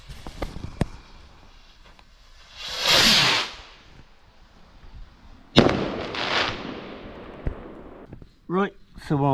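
Class 1.3G firework rockets at an outdoor Bonfire Night display launch with hissing whooshes and burst into sharp, loud bangs and crackles, several in succession close by.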